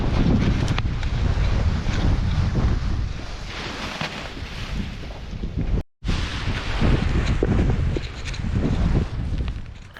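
Strong wind roaring over the microphone while paragliding near Řevničov, a loud continuous buffeting rush with gusty swells and one abrupt brief dropout midway.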